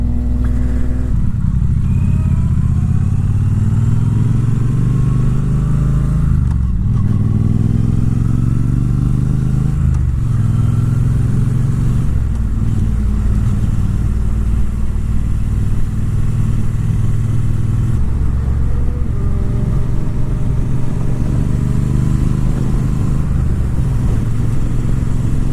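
Triumph Bobber Black and Triumph Street Triple RS motorcycles ridden along back roads, loud engines droning, rising and falling through gear changes with clear revving surges, steady wind rush throughout.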